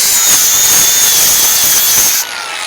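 Loud, close whine of an angle grinder running a zirconia flap wheel, a high sustained grinding tone that cuts off abruptly near the end and leaves a quieter hum.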